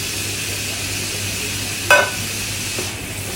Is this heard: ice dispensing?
no